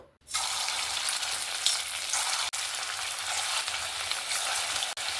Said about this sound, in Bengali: এবার আমি কোপ্তাগুলো ভেজে নেব